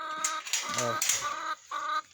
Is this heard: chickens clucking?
yes